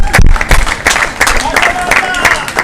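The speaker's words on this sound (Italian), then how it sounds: "eccola, un applauso ancora" An audience at a bocce championship final in a beer hall claps in scattered, uneven bursts, fairly close, while an announcer speaks loudly over the applause.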